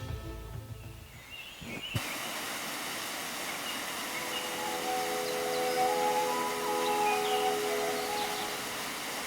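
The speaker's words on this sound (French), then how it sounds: "Le célèbre Schießentümpel, plus haute cascade du pays" Schießentümpel waterfall in Mullerthal, Luxembourg, the country's highest cascade, a steady, loud rushing roar filling the scene after an abrupt start, with faint high bird chirps over it.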